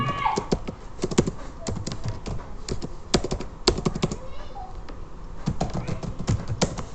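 JavaScript code is typed on a computer keyboard, giving irregular, close, crisp key clicks in short clusters with small pauses between them.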